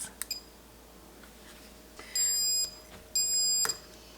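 A kitchen timer beeps during cheesemaking, two sustained electronic tones about a second apart, each clear and moderately loud, after a few light clicks and knocks in a quiet room.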